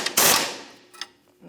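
Ratcheting and metallic clicks as a shock mount nut on a 1992-1996 Ford F-150 is tightened with an 18mm socket and wrench, a sharp burst followed by fainter clicks close by.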